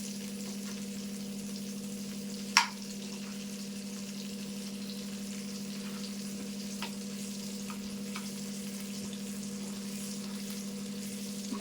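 Dried moyya fish frying gently in a pan, a faint steady sizzle under a low constant hum, with one sharp clink as the pieces are turned.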